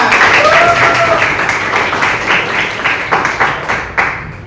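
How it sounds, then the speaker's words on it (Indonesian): A school class claps together in a burst of applause that thins into a few scattered, rhythmic claps before fading out, with a voice briefly audible at the start. "Kasih tepuk tangan buat Atala."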